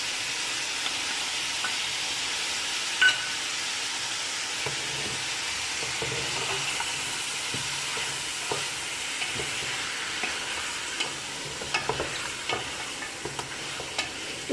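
Mutton fries with ginger garlic paste in a karahi, giving a loud, steady sizzle with continuous hissing and occasional scraping stirs, close up and with no talking.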